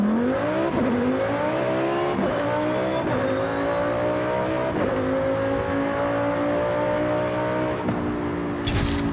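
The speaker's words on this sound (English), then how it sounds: "on the Lamborghini Sterrato, the transmission noise stops when you brake" Lamborghini Sterrato in Forza Horizon 5, its engine droning loudly through repeated gear shifts while a thin, high transmission whine rises steadily above it, then cuts off near the end.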